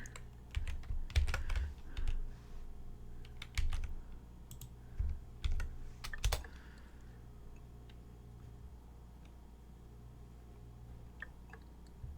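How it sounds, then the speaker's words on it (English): Hand typing on a computer keyboard into a browser, several bursts of rapid close key clicks over the first six seconds, then sparse isolated taps and quiet. "me typing this out by hand in my backup browser"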